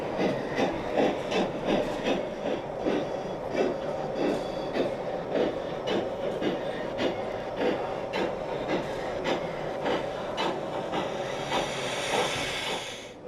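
A Märklin 1 gauge model steam locomotive runs along its track, giving a steady stream of rhythmic clicks and hissing steam-like chuffs that keep going throughout. A brighter hiss rises near the end, and no one speaks.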